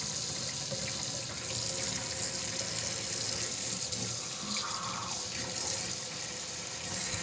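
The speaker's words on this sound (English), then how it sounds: "So we're gonna start with our cold water, okay? And moving it slowly to warm." A kitchen faucet runs steadily, filling a sink with water for hand-washing dishes. The flow is an even, continuous rush of moderate loudness, heard alone with no talking.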